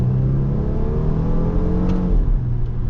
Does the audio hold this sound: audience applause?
no